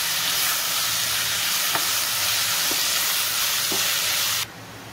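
Beetroot fries with onion and green chilies in a pan for cutlets, a steady dense sizzle with occasional spoon taps while being stirred, the hiss dropping off sharply near the end.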